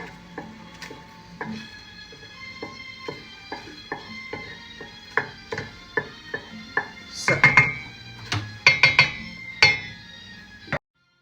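Cooked rice is spooned back into a steel pot over a potato and sweet potato tahdig layer, with a steady series of sharp metallic taps and clinks building to a louder cluster of scrapes near the end, close up.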